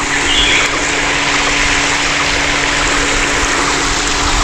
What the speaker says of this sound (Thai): จะเป็นน้ำตกเล็กๆเดี๋ยวจะขึ้นไปชม